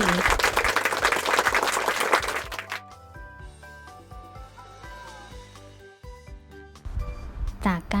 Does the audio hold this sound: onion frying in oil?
no